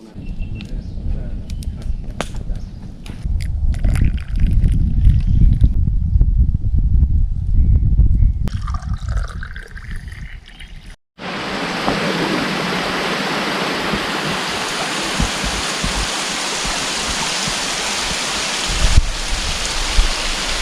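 Heavy rain pours down in a forest during a storm, a dense loud roar that starts abruptly and continues steadily, preceded by rustling, thuds and faint voices.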